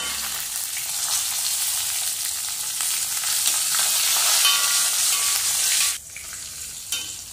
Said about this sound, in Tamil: இந்த பச்சை மிளகாயை வதக்க போடணும்